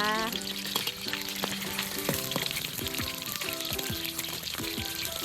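Fish sizzles and crackles in hot oil, a steady loud frying hiss with occasional clinks of a utensil.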